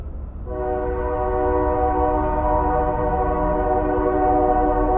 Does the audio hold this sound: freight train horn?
yes